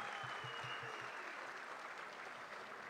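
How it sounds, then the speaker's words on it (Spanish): An audience at an outdoor ceremony in Zempoala, Veracruz, where land titles are being handed out, claps steadily in a broad, even wash of applause heard from some distance. "un fuerte aplauso para todos ellos"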